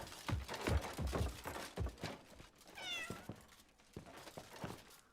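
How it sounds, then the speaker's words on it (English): A cat meows once, briefly, in the video game Crimson Desert, a small mid-level call heard amid busy game sounds of footsteps and clatter, with no voices at that moment. "I heard a kitty."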